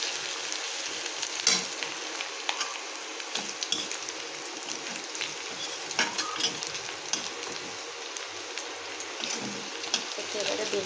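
Ingredients for a beetroot mash stir-fried in a pan until lightly browned, giving a steady close sizzle broken by scraping spatula strokes and occasional clinks, with faint talk in the background.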